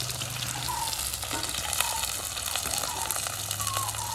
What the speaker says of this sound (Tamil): அடுத்த கடுகு பெருஞ்சீரகம் போட்டாச்சு. அது பொரிஞ்சு வந்துட்டு அடுத்த வெங்காயம் வரும்.